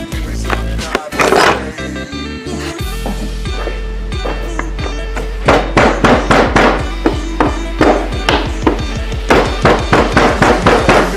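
Repeated sharp metallic hammer strikes, a brief burst early and then a steady run of blows in quick rhythm, close and loud in a reverberant workshop, during work on a Toyota Corolla's rear main seal.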